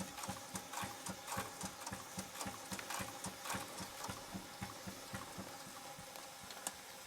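A large model showman's steam engine with a leather drive belt runs steadily, giving a quick, even chuffing and mechanical clatter, close and continuous with no talking.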